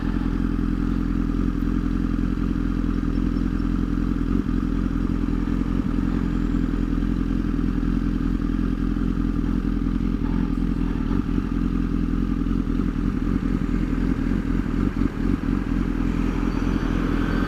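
A motorcycle rides along a slippery, dirty road, its engine droning loud and unbroken throughout, with the rumble of the tyres and occasional thumps and scrapes from the rough surface.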